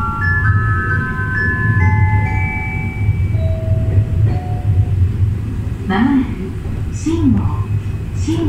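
Low continuous rumble of a Chichibu Railway train in Japan running on rails, with rising motor whine tones; an onboard announcement speaks over it partway through.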